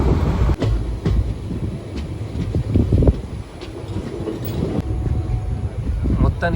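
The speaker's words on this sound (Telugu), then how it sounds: "110 స్పీడ్లో అయితే మన ట్రైన్ అయితే ప్రాజెక్ట్ రన్ అవుతూ ఉంది" Padmavathi Superfast Express on the Warangal–Tirupati route running at about 110 km/h, a steady loud rumble with wind buffeting and faint clicking from the rails, sustained throughout.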